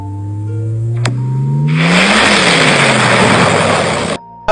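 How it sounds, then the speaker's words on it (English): Sonified recording of two neutron stars colliding: a low tone sweeping steadily upward into a loud, harsh burst of broad noise that holds for a couple of seconds, then cuts off abruptly. "This is what it sounds like when two neutron stars collide."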